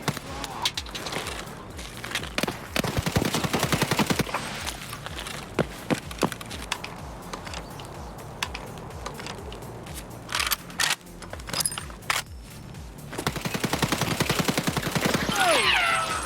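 An unsuppressed SA58 rifle is fired in Escape from Tarkov, with loud repeated bursts of gunfire through most of the stretch. Shots come in rapid strings with brief gaps between them, close and dominant.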